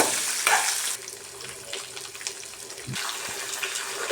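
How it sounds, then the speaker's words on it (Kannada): Garlic, curry leaves, green chilli and onion fry in a pan for a chutney, giving a bright, steady sizzle. A few scraping stirs and clatters are close by, and the sizzle fades briefly partway through before swelling again. "ಈರುಳ್ಳಿ ಇಷ್ಟೆಲ್ಲ ಹಾಕಿ ಸ್ವಲ್ಪ ಹೊತ್ತು ಹುರಿಬೇಕು"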